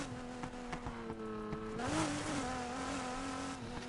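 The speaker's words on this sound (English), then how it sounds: "Whatever engine I have sounds really, really good. Kind of sounds like a V10." A car engine revs steadily and loudly in the Need for Speed Heat racing game, with a rising pitch swell near the middle and faint tire squeal mixed in. No one speaks over it.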